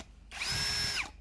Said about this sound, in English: Oh, the drill has no effect on the disc.